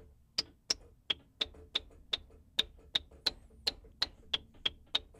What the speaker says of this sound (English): turn your decay way down, and you end up with something that's kind of like a snap